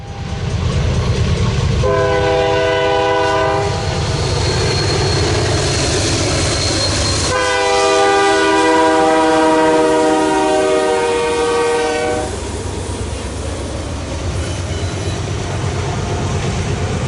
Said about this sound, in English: Q114 had a pair of GE-9s leading this afternoon, and it was another train with a nice horn